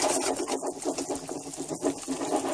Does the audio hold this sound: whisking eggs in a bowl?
yes